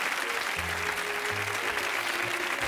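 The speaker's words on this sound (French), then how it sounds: "On l'applaudit." Audience applauding in a studio for a stage magic show, a steady wash of clapping throughout with some low murmur and a tonal hum underneath.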